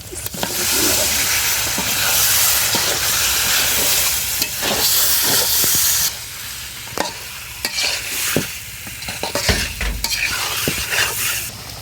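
Meat hits spiced masala frying in a pan, a loud, close hiss and sizzle that settles into stirring scrapes and crackles in an outdoor setting.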